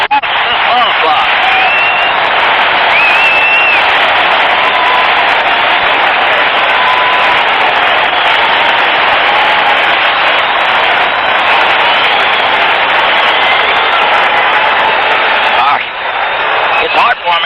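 A Boston Celtics home crowd at a 1979 basketball game against the Houston Rockets, a loud unbroken roar heard through a narrow, tinny broadcast sound with a brief dip near the end.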